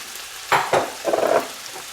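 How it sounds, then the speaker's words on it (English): Vegetables for curry chicken fried rice being sautéed on a medium stove, with a few brief close stirring scrapes over a soft sizzle, and no talk. "So we're going to saute these veggies."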